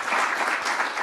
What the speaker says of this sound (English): let's give a round of applause to the administration